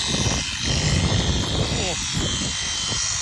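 Batoca S4 polishing machine buffing a car headlight, a steady close motor whir running throughout with brief dips and a faint voice under it.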